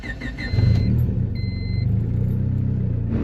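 A turbocharged Honda Civic engine idles steadily while cold and warming up, a close, even mid-range rumble with a brief rise in revs early on, heard alone with no talk.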